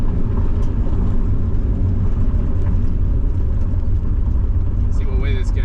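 Passing road traffic near a Montana farm: a steady, low engine rumble holds throughout at moderate distance, with a faint indistinct voice partly over it.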